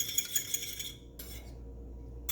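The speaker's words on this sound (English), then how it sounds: "now I'm mixing it. I'm using a fork" A fork beating eggs and a dash of milk in a bowl for an omelet, quick rapid clinking taps against the bowl in a short close burst, then a brief pause and another flurry of faint scraping clicks.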